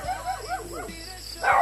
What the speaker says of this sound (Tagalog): May aso ha? Makagat ka?